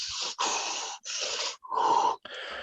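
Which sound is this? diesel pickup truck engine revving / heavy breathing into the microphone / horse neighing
heavy breathing into the microphone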